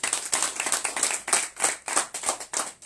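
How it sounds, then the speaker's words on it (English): A small church audience at an outreach gathering in Bali, Indonesia claps hands in a rhythmic, fairly even beat, crisp individual claps pulsing steadily and close, with no talking over them. "Let's clap hands for them."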